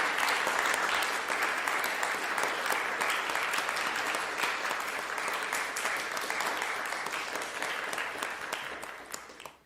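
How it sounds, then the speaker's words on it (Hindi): Loud, sustained applause from a large audience at an award ceremony, a dense wash of clapping lasting nearly ten seconds before tapering off at the end. "जोरदार तालियां"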